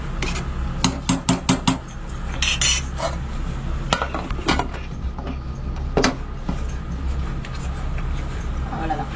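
Metal spoon scraping and clanking inside a cooking pot while stirring jackfruit biryani, a burst of sharp clinks early then scattered knocks over steady kitchen background hum, with a voice talking in between.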